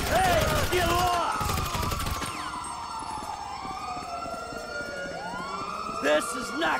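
Wailing ambulance siren in the video game GTA V, rising and falling tones that sweep on over bursts of gunfire, with shouted voices at the start.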